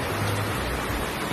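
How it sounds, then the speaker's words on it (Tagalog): Steady, even rainfall during a long wet spell, a soft continuous hiss of falling water with no speech over it. "tuloy pa rin ang ulan."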